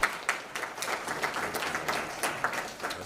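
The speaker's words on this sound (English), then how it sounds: "Let's give her a round of applause." A crowd applauds steadily, many hands clapping at once in a dense, continuous patter with a few sharper claps standing out.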